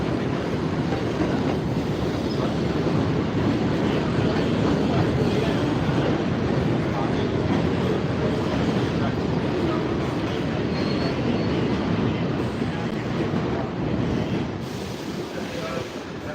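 A New York City train rolls steadily along the rails with a dense, continuous rumble and rattle, loud and close throughout.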